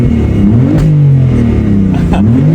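A car engine at a cars and coffee meet revs close and loud, its pitch climbing and falling in a few strong throttle blips.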